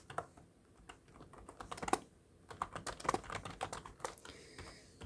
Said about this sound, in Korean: 몇 글자 남은 거는 백스페이스 바를 탁탁탁탁 눌러서 정확하게 지워주고요